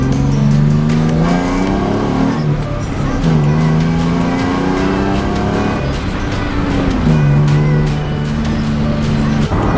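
V6 Mustang with a homemade dual exhaust revving hard, a loud continuous engine roar that rises and falls in pitch through several surges of acceleration, close and dominant throughout.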